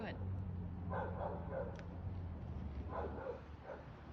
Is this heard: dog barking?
yes